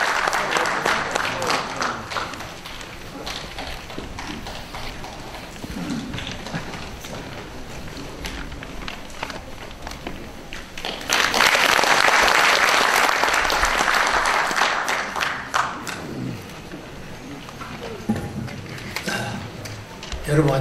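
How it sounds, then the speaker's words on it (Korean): An audience at a book launch event applauds to welcome a speaker, a swelling wave of warm clapping that peaks midway and fades, with voices heard over a room murmur before and after. "축사를 여러분 뜨거운 박수로 환영해 주시길 바라겠습니다"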